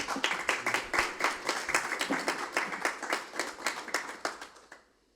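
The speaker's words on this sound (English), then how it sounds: "You don't need to feel like you have to clap after every poem, though." An audience claps briskly and steadily at a poetry reading, a few seconds of close, dense applause that thins out and stops.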